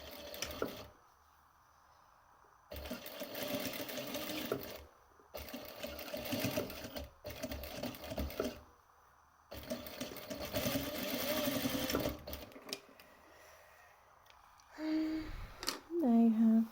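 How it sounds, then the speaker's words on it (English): A sewing machine stitches piping in bursts of rapid mechanical whirring, several runs of a few seconds each with pauses between, close and fairly loud, followed by faint handling noises and a brief voice at the end. "And then continue stitching."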